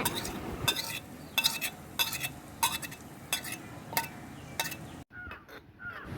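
Cumin seeds sputter in hot oil in a pan for corn rice while a spatula stirs and taps the metal in a steady rhythm, roughly once every half second. A faint sizzle runs beneath the sharp clinks, and then the sound cuts off abruptly.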